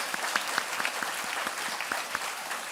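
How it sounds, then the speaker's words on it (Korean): A church congregation claps steadily in thanks to the pianist who has accompanied their Sunday service, a sustained, even round of applause heard alone at moderate volume. "우리 한번 박수로 고마움을 표시하면 좋겠습니다."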